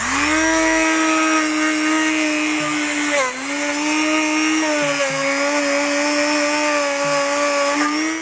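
Small wire brush spun by a power tool cleaning an LS1 cylinder head, a loud, steady high-pitched whine held close throughout, dipping briefly as it bears down on the metal, with no voices.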